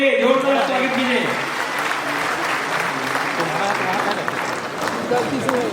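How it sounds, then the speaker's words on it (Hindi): An audience at an award ceremony in an auditorium in Patna claps steadily and loudly for several seconds, a dense sustained applause with crowd noise mixed in. "तालियां बजाइए, जोरदार स्वागत कीजिए।"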